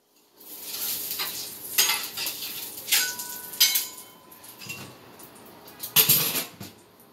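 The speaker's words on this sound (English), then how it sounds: "Take the spatula." A metal spatula scrapes and clatters in a pan of hot, smoking oil, giving a series of close, sharp scrapes and knocks with short pauses between them and sizzling underneath.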